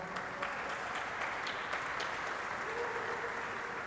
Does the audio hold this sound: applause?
yes